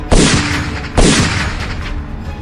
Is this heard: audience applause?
no